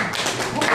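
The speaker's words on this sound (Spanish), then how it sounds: "Aplauso por su compañera." Short burst of classroom clapping for a student during a labor law class, a few scattered claps from a small group over less than a second.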